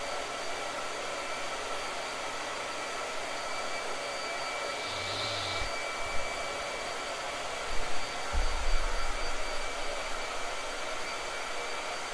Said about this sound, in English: I'm going to blow dry this, so blow dryer.